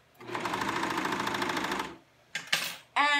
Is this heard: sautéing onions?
no